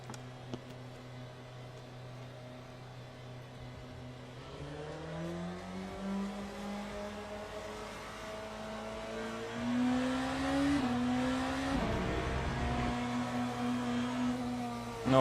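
Engine of a Peugeot race car in the Le Mans Ultimate racing game, a fairly quiet tonal drone that climbs in pitch through several gear changes, rising and dipping as the car accelerates.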